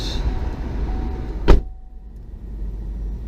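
Electric folding side mirrors on an Opel Mokka 1.6 diesel automatic, heard as a single short motor whir and clunk near the middle, close by inside a quiet car with a low steady hum.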